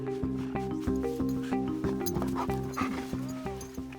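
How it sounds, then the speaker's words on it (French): Romanian Carpathian shepherd dogs bark in repeated close, loud yelps with excited whimpers and yips between, a steady run of barking with no talk over it. "Les chiens de berger roumains des Carpates, ou Carpatines en roumain, font la fête à Barbara et Ovidiu."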